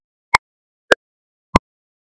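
Three short synthetic transient clicks, drawn with a transient pencil tool, land at even spacing over about two seconds. Each is a sharp, isolated tick against full silence, with no talking.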